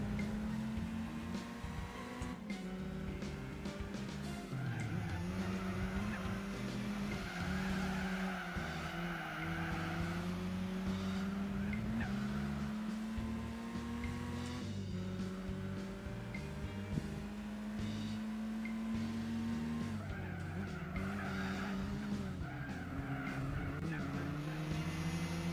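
A car in the Gran Turismo 4 racing game brakes hard with loud, sustained tire squeal over a steady engine drone, rising and falling in pitch through the clip.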